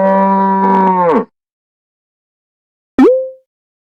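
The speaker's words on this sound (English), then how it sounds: "Cow." A cow gives one long, steady moo that tapers off after about a second. A short voice follows after a pause.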